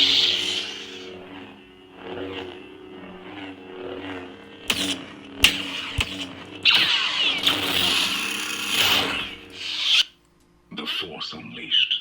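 A Star Killer lightsaber sound font from The Force Unleashed 2, played on an Elf Sabers hilt with a custom Tierfon hybrid chassis: a steady humming drone broken by sharp swings and crackling clashes, close and loud, with a brief drop near the end.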